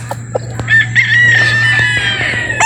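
A rooster at a game farm in Batangas gives a loud, close crow that stretches over a couple of seconds, with a few short clucks just before it.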